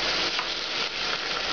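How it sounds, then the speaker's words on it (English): Cognac poured into a hot pan for ossobuco gives a steady, loud sizzle and hiss that holds evenly throughout, close up with no voices. "now I'm going to add an ounce of cognac"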